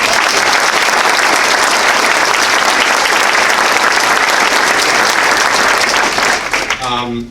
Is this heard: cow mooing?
no